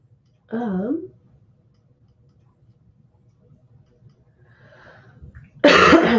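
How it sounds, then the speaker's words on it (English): A single sharp cough rings out near the end after a short vocal sound and a stretch of quiet with faint ticking. "Did not mean to cough in your ears like that."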